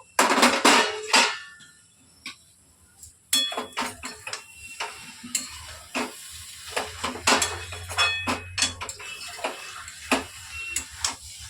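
A cooking pot's lid comes off during the braising of a fish roe curry, giving several sharp metallic clinks and knocks over a steady low sizzle, with a few spoon scrapes and taps following.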